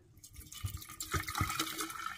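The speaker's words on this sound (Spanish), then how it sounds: "voy a agregar agua" Water is poured into a Mason jar for rooting a peace lily cutting, a close trickling and splashing fill with a few brief surges, alone without talk.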